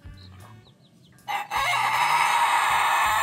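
Chickens in a backyard flock, with a rooster's crow at the start, then a loud, close burst of clucking and squawking that continues steadily.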